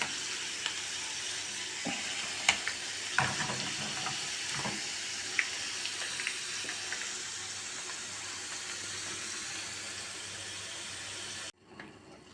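Potatoes frying in a pan with a continuous close sizzle, a few scraping stirs and clatters along the way, ending abruptly in near silence.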